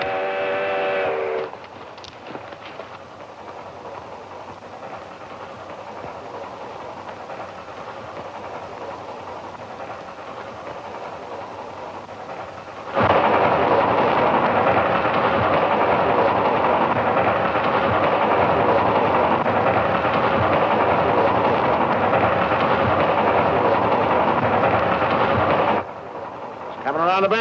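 A short whistle-like tone, then a low rumbling roar of a train that abruptly swells much louder halfway through and keeps rolling steadily.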